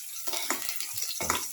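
Ginger drops into a hot pan while garlic and shallots cook, giving a soft sizzle with a few short scraping stirs and light clinks of a utensil against the pan.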